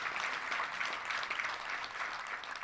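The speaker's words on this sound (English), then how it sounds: "Let's give all our volunteers a big round of applause." A dense, even wash of applause for volunteers at a touchdown club gathering, sustained and fairly distant throughout.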